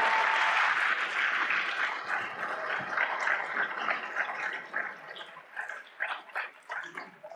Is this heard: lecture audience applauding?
yes